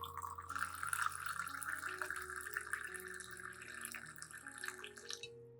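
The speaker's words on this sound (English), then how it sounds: "Next, pour about 500 milliliters of hot water" About 500 ml of hot water is poured into a glass cup holding a teaspoon of coffee, giving a continuous splashing fill that stays fairly even, eases off briefly and then trails away.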